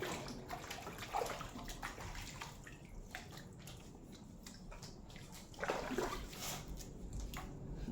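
Water splashing and running over freshly dug galangal as the soil is washed off, a continuous, fairly quiet wet rush with occasional louder splashes.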